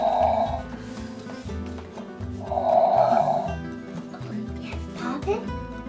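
A Disney Elena of Avalor Baby Mingo nurturing play set toy gives two electronic snoring bursts, one near the start and one midway, mixed with toy music tones while voices are heard.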